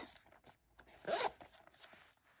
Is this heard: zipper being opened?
yes